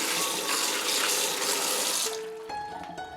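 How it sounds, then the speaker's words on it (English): Black fungus being rinsed under a running kitchen tap: a steady, close gush of water splashing into a sink for about two seconds, then the flow cuts off, leaving quieter trickles and drips. "Rinse the black fungus and drain them."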